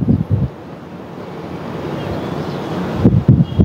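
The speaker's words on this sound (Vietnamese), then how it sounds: "đâm ra gió lộng vù vù ấy, có lẽ là âm thanh của tiếng gió, tiếng các phương tiện" Strong seaside wind buffets the microphone on a height above the shore near the Po Nagar towers in Nha Trang, a steady roar with a few louder low gusts at the start and end.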